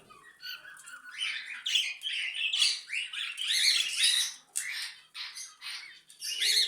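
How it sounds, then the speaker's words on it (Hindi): Caged budgerigar parakeets squawk and chirp in a busy, overlapping chatter of many short, bright calls, fairly close and continuous throughout. "अब ये जो बजरी तोते हैं जो मैंने अंदर बंद किए हुए हैं"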